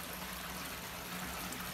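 Water overflowing from bell siphons into the sump of a greenhouse aquaponics system, a constant trickling stream heard close but fairly quiet, with no talk.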